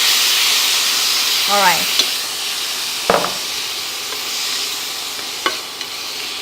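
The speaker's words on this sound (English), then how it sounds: "At this point, you add the kimchi." Kimchi stir-fried with garlic in a pan for vegan kimchi fried rice, sizzling steadily throughout with a few clinks and scrapes of the utensil; a voice speaks briefly near the start.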